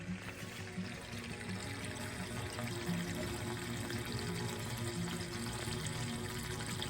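Fuel pouring steadily into a home fuel tank during a fall refill, a continuous close rushing flow at roughly 8 to 10 gallons a minute with no talk over it.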